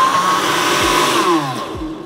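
Blender whirs steadily, pureeing cooked cauliflower with salt and pepper, a dense motor hum with shifting pitch as the contents churn, loud and close with no talking.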